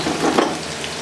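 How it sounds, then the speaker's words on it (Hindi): Onions frying in hot ghee, a short close burst of sizzling and stirring, fairly loud and alone without speech. "प्याज को फ्राई करेंगे।"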